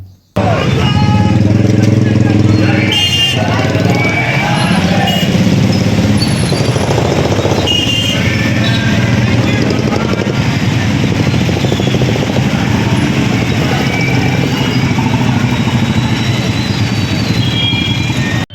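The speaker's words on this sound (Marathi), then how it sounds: "राष्ट्रवादी काँग्रेसच्या पदाधिकाऱ्यांनीही शहरातून मोटरसायकल रॅली काढत" Motorcycles in a political party's rally ride through the town of Parli during a shutdown protest, a loud, sustained engine roar that swells and rumbles throughout.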